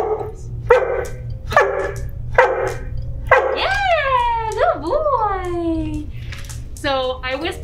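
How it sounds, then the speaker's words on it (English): A trained service dog barks repeatedly on a help command, sharp evenly spaced barks up close, then turning into rising whining yelps and howl-like cries, with a voice talking underneath. "he's gonna bark continuously until somebody comes to help me"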